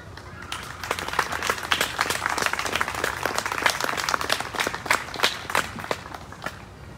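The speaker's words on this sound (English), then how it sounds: "I even got an applause." An audience at a Catholic school gathering gives a sustained round of applause, dense overlapping clapping that carries on steadily throughout with no clear voices above it.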